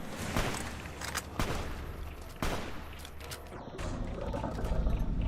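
Gunfire from the video game Fallout New Vegas: a string of sharp, loud shots with rough echoing tails, several close bursts spaced over a few seconds over a constant background rumble.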